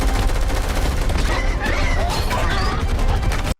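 Loud, rapid gunfire from the sci-fi war film The Tomorrow War, dense bursts of shots mixed with crashes and mechanical clatter that continue almost unbroken before cutting off abruptly.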